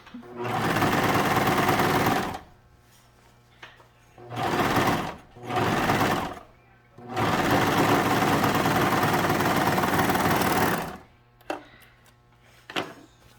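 A sewing machine stitches the seam of a fabric pumpkin in several loud, steady runs of a few seconds each, stopping between bursts, with faint handling noises in the pauses.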